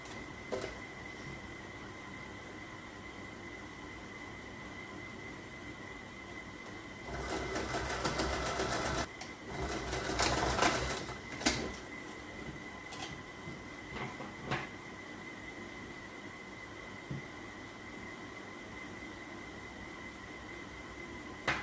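Sewing machine running a zigzag stitch on lace-trimmed knickers, a steady mechanical whir throughout that grows louder and busier in the middle with some clicks and knocks, close up and without speech.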